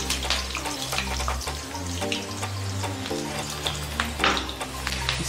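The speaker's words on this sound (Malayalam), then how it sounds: "കടുക് പൊട്ടി വരുന്നേ ഉള്ളൂ, ഒന്ന് പൊട്ടിക്കോട്ടെ." Mustard seeds pop and crackle in hot oil, a steady dense sizzle with frequent sharp snaps, close and moderately loud, with a low background hum underneath.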